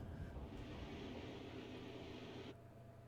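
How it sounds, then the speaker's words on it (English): A low-flying aircraft passes over a World of Tanks battlefield, a faint, steady broadband roar that holds for a couple of seconds and then cuts off abruptly. "Can be very distracting when you get aircraft flying that low."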